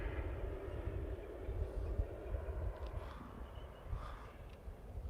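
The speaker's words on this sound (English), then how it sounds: "That plane is pretty low." A large private plane flies low overhead outdoors, a steady broad engine roar rumbling throughout at moderate distance, with faint street ambience around it.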